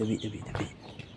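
A chicken clucks a few times close by inside a large museum, with a hen leading her chick, while someone talks over the soft calls and background noise.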